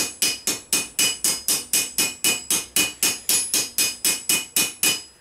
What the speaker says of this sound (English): And I'm going to hammer it quite tight.